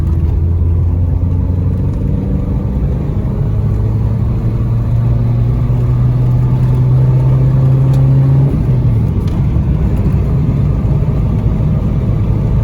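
A Peugeot 205 GTI 1.9 engine drones steadily from inside the cabin with windows closed, its low exhaust note rising under load, then easing into a rougher rumble.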